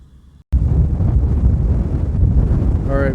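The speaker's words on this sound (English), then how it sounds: "you can see how windy it is" After a brief quiet moment, strong wind suddenly roars into the microphone outdoors in northwest Pennsylvania, a loud, continuous low buffeting that persists to the end.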